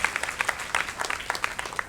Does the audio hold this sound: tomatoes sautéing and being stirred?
no